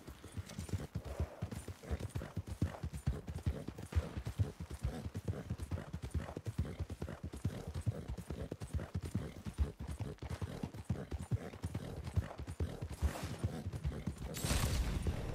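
Horse hooves clip-clop steadily at a trot in the western video game Red Dead Online, a quick even rhythm of soft thuds repeating throughout, moderately quiet with faint creaks from saddle gear and no talk.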